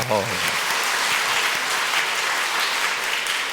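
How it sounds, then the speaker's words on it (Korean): Steady, dense applause from a church congregation at a Sunday evening worship service, filling the room right after a short bit of speech at the start. "박수 한번 쳐주겠습니다"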